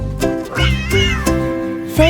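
A cartoon cat in a nursery rhyme song meows several times in quick succession, loud and close, with drawn-out, wavering cries and no talking.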